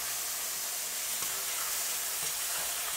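Butter melts and sizzles in a frying pan of champignon mushrooms, a steady, close, even hiss with faint crackles running the whole time and no talking.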